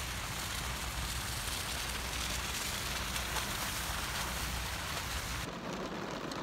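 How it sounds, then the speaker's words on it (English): Heavy storm rain pours steadily and loudly onto an uncovered outdoor stage, a dense unbroken hiss that cuts off abruptly near the end. "So we have thunder and lightning, and rain and storms."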